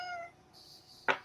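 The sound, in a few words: cat meowing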